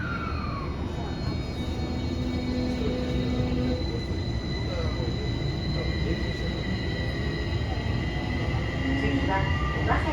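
A Tokyo Metro Tozai Line 05 series train with Toshiba IGBT-VVVF control and permanent magnet synchronous motors pulls into a station platform, making a loud, continuous rumble with rising motor whine and some wheel squeal throughout.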